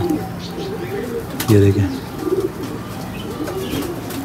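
A good-sized pet pigeon of a blue kamangar-type flying breed coos up close in a loft setup, giving a few soft throaty coos with one louder burst, while someone briefly speaks.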